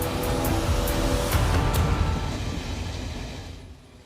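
A very long iron ore freight train pulled by several locomotives rolls past close by, a loud continuous rumble with rhythmic clanks of wheels over rail joints, fading as it moves away.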